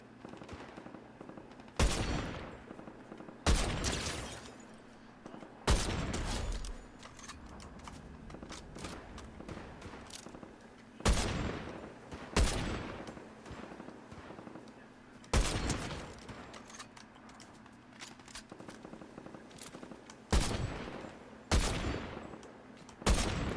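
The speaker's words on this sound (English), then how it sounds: "Dang, I was having fun sniping." Video game sniper rifle gunfire: about a dozen sharp, loud shots spaced irregularly, some in quick pairs, each with a short decaying tail over a low background hum.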